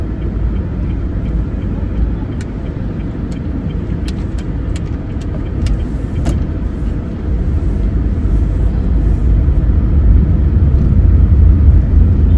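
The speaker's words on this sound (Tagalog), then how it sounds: "Hindi na nawala yung traffic syempre" Steady street traffic rumbles close by, a continuous roar of passing cars and motor vehicles that swells slightly louder toward the end, with a few faint high clicks above it.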